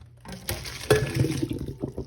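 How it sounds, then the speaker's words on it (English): Cooked spaghetti water poured from a pot into a colander in a kitchen sink, a short rushing splash that starts abruptly, surges, then trails into gurgling drainage, close and alone. "Pour it out in the colander."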